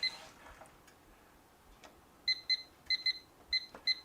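A kitchen timer being set for 20 minutes while chicken and rice cook gives a quick series of bright electronic beeps, mostly in close pairs, near and clear over a quiet room.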